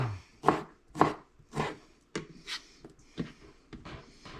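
A knife chopping a small piece of pork fat on a cutting board for rabbit burgers: about a dozen sharp, close thuds in a steady rhythm, each with a brief wet knock, no talk.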